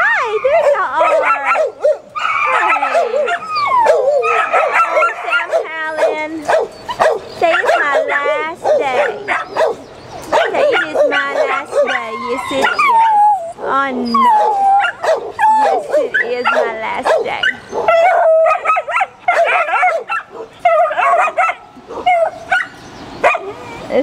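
Dogs at an animal shelter, including a German Shepherd mix, a beagle and pit bulls, bark, yip and whimper in a constant close chorus while a person talks among them.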